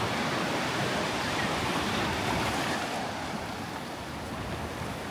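Ocean surf rolls onto the beach at Point Dume in Malibu, a loud, steady wash of breaking waves that barely eases over the seconds, mixed with wind buffeting the microphone and no voices.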